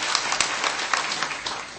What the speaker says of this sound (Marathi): टाळी वाजून आशीर्वाद द्या.